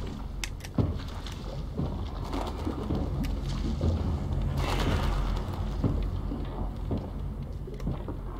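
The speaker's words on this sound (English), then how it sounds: "There's a bird." A bird cooing in the wilderness setting of Little Nightmares II, soft repeated coos spread across a dense, rumbling ambient bed with occasional thuds, moderately near.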